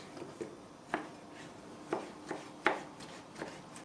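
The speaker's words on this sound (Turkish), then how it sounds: "Kabuklarını soyduğum domatesleri doğruyorum arkadaşlar." A knife chops peeled tomatoes steadily on a cutting board, with several sharp, evenly spaced thuds at a moderate pace, close by and fairly quiet.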